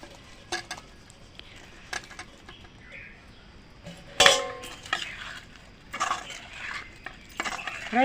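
Prawn pieces tipped into a spicy Telangana prawn pickle masala of chili, salt, ginger and garlic, then mixed, giving scattered scraping and clinking strokes with a louder clatter midway, close and moderately quiet.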